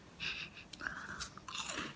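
Close, crisp crunching of a chocolate rusk snack: a few distinct crunchy bites and chews over about two seconds, with no talking.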